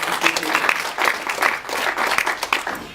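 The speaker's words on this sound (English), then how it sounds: "I think we should give them a round of applause for taking their time to come and speak to us" An audience at a radio dialogue session gives a round of applause for invited guest speakers, the clapping steady and fairly loud in waves, with voices mixed in underneath.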